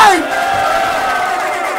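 A crowd roars and yells loudly at the Bahay Katay rap battle at Giniling Festival Part 3. The burst of shouting and cheering swells at the start, then holds as a steady, dense wall of voices.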